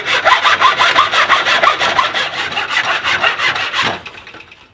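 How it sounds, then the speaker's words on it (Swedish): A handsaw-style miter saw cuts wooden shelf boards clamped against the rear fence, with about a dozen rapid, even rasping strokes up close that stop abruptly near the end. "Jag använder gäringssågen när jag såg av bitarna."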